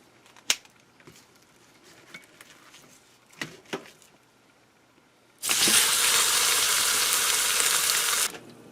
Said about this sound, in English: I'm going to put a little olive oil in here and I'm going to brown that roast on all sides.